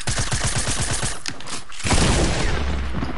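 A video game SMG fires a rapid sustained burst of gunshots, loud and close, ending in a heavier booming blast and a lingering rumble.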